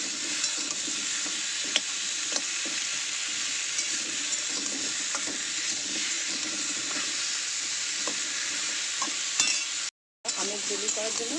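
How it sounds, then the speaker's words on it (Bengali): Mango jelly made from small, overripe sour mangoes is stirred in a wok. It gives a continuous soft sizzle with scraping and stirring, briefly cutting out near the end. "জেলি করার জন্য কড়াতে একটু নাড়িয়ে নিলাম।"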